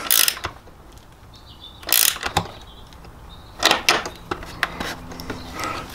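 An 8mm speed wrench tightens a headlight bolt on a 2017 Kawasaki Z125 Pro motorcycle, giving several short ratcheting clicks and mechanical clatters in bursts, close and fairly loud, with quiet pauses between.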